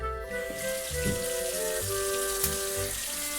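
Water runs from a tap into a sink in a Paris lodging, a steady close hiss and splash filling the basin with faint shifting tones.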